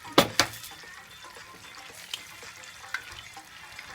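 Eggs frying in melted butter in a pan: two sharp knocks open the clip, then a faint, steady sizzle with scattered small pops runs underneath, close and quiet, with no talking.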